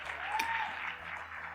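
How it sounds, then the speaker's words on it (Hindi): A seminar audience breaks into applause, a dense, even burst of clapping from a crowd lasting just over a second. "एक बार जोरदार तालियां।"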